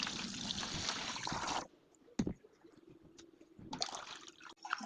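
Water gushes into the base tank of a Pureit water purifier, a loud rushing pour that stops abruptly, then scattered splashes and a second burst of flow near the end.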